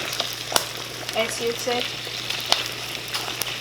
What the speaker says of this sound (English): But I'm frying it.